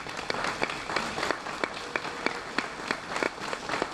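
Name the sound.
audience applauding local elected officials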